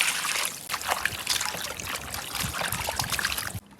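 Water trickles and splashes steadily while chicken intestines are rinsed, close and continuous, then stops abruptly at the end.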